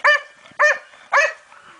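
A puppy barks three times in an even rhythm, each bark sharp, close and loud, with short quiet gaps between them.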